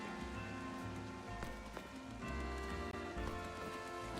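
Steady rain pattering on surfaces in a video game, a dense, even hiss under faint game music tones, with no voices.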